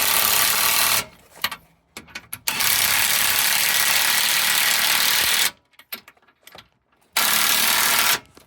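Ratchet clicking in quick bursts while tightening the sway bar bushing bolts on a 2005–2010 Jeep Grand Cherokee WK, two long loud runs of rapid pawl clicks separated by short pauses, close and without talk.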